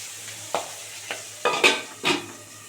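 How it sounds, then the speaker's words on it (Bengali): Shing catfish frying in oil crackles over a low hum, with four or five sharp, loud pops and spatters spaced unevenly over a couple of seconds. "ফট ফট করে ফাটছে উল্টে দিই এক পিট ভাজা গেছে"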